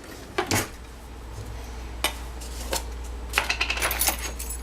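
Metal spoon clinking and scraping in a jar of Skippy peanut butter during home cookie baking, a few sharp clicks spaced out then a cluster of quick taps, close, over a steady low hum.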